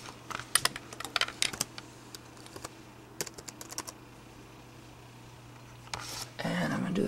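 Someone types a password on an Acer computer keyboard, the keys clicking in quick irregular bursts close by, with a louder rustling handling noise toward the end.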